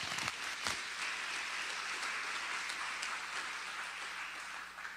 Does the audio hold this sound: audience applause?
yes